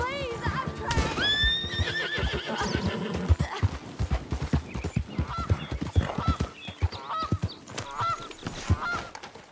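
A horse in the video game Red Dead Redemption 2 gives a loud, rising whinny up front, followed by a run of clip-clopping hooves and snorts, with a short neigh repeating later.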